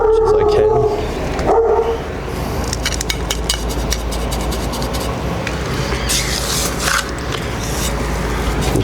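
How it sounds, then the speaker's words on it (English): A dog barks repeatedly in the background amid scraping and rumbling noise, the barks sharp but somewhat distant. "You can probably hear my dog barking in the background."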